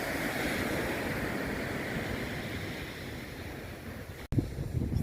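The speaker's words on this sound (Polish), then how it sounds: "Strasznie wieje" Strong wind roaring across a beach, steady and loud over rushing surf, with a brief dropout near the end before the gusts return.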